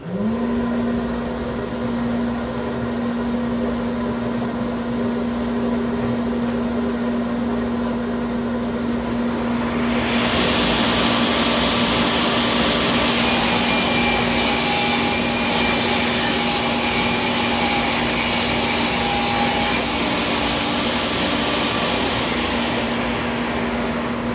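A ShopSmith DC3300-powered cyclonic dust collector runs in a woodshop with a steady motor hum and whooshing airflow, which turns louder and brighter as a cut is made partway through and then eases back.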